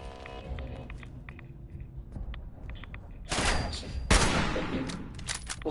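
Gunfire in Fallout 76: quiet clicks and footsteps give way to a loud, close volley of rapid shots with sharp cracks and rumbling impacts in the last few seconds.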